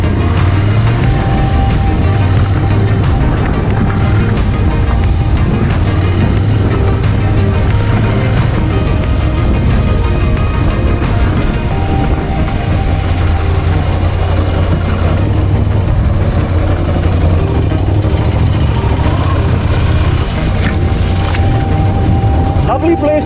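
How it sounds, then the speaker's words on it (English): A Ducati Scrambler motorcycle ridden through eucalyptus forest on rough terrain, its engine droning steadily and loud throughout with low rumble and wind buffeting, and no speech over it. "Lovely place to ride your Ducati Scrambler, passing through these eucalyptus forest."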